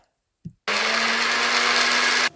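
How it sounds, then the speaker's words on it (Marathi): A mixer grinder whirs loudly and steadily for about two seconds, blending bread into crumbs, after a short knock just before it starts. "हांव मिक्सरान बारीक वांटता"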